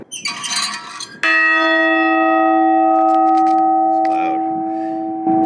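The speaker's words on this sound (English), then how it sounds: "This is a half-scale replica of the Liberty Bell weighing 250 pounds." A half-scale replica of the Liberty Bell weighing 250 pounds is struck once, giving a loud, close clang that rings out with a long sustained hum, then is hit again near the end; people talk briefly before the strike.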